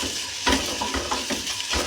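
Okra (bhedi) stirred in a frying pan with chili powder and salt, a utensil scraping in soft rhythmic strokes over a steady close sizzle.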